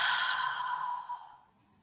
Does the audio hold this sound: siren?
no